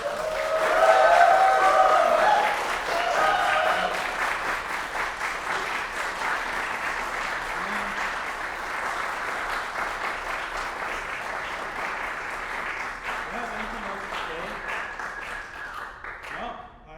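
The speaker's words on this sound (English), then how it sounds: "Would you mind if we gave the performers another round of applause?" An audience at a composition recital gives the performers a sustained round of applause. It starts loud with a few cheers and whoops, then settles into steady, even clapping that tails off at the end.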